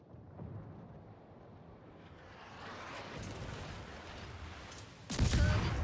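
Naval gunfire in a warship video game against a Fujin destroyer: a low rumbling build of distant battle noise ends in a sudden heavy boom near the end.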